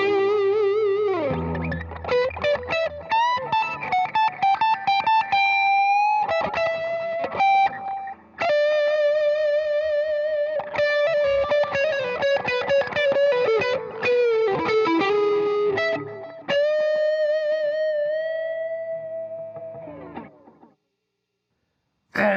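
An instrument played through a Boss Space Echo tape-style reverb and echo unit: sustained distorted tones with repeating echoes that smear into a reverberant wash, played continuously for about twenty seconds before cutting to near silence.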